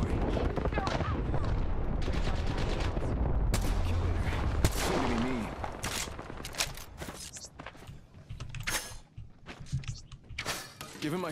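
Gunfire in the Apex Legends shooter game, rapid bursts of close, loud shots and clattering impacts coming in irregular volleys, with footsteps and a player talking over the action.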